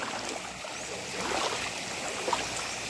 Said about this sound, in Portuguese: o córrego tá bem cheinho